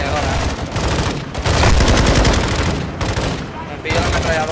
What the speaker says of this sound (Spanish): Vale, voy a ametralladora.